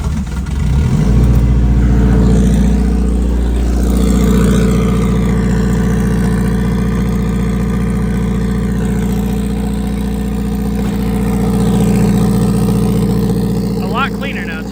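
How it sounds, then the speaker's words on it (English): A turbocharged K20 Honda Civic, tuned to around 450 wheel horsepower, idles steadily after a cold start, a loud, close engine hum with a slight rise and fall, while a voice talks briefly over it. "Let this guy warm up. Cold start."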